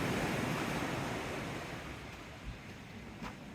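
Steady surf washes against a seafront, a broad continuous roar of breaking sea waves with some wind rumble, fading slightly and alone without voices.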